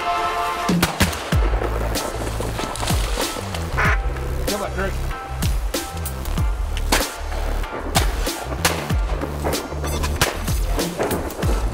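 Shotgun blasts on windy public land during a duck hunt: a rapid string of sharp, loud reports mixed with quacking ducks, and hunters talk in between.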